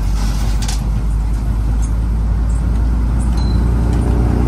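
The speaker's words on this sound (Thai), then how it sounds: "ท่อมันดูดังก็เลยเหมือนกับวิ่งเร็ว" Loud, constant engine and exhaust drone from a moving vehicle, rumbling heavily in the low end with road noise throughout.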